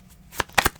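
Playing cards riffled and drawn during a tarot reading, a quiet rustle followed by three or four quick, close papery snaps and flicks.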